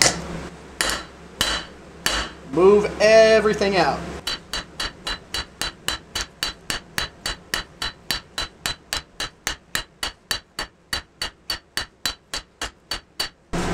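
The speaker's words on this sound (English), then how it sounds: "You go in with the rounding hammer" Rounding hammer forging a steel knife blade, an integral bolster cleaver, on an anvil: after a few scattered blows with brief talk, a long steady run of sharp, loud ringing strikes follows at an even, brisk rhythm.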